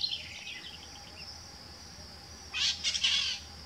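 A parakeet calls nearby in a burst of bright, harsh chirps toward the end, set against a steady high insect-like whine and faint earlier bird notes outdoors near a railway bridge in Uberlândia.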